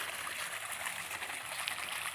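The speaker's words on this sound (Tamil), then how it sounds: "வாய்க்கால தண்ணி ஓடுது" Water flowing along an irrigation channel in a village: a steady, bright rushing and trickling that holds evenly across the short stretch, close by and unbroken by voices.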